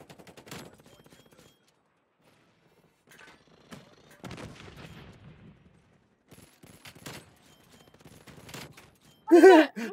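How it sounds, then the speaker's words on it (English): Pistol fire in a Call of Duty Hardpoint match: scattered sharp shots in short bursts, with a loud close crack near the end, mixed with grunts and game noise and some quiet stretches between. "I was killing him with the pistol."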